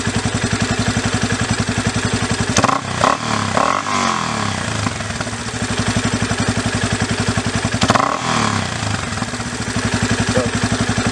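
A Yamaha Raptor ATV engine, its carburetor freshly adjusted, runs with a steady close rumble and blips its throttle twice, near 2.5 and 8 seconds, into short sharp revs before dropping back.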